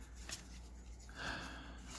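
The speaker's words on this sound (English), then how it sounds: "And we got dogs in the background," Dogs in a household somewhere off in the background, one of them a puppy, giving faint panting, snorting and whimpering sounds that stay low under steady room noise with no talking.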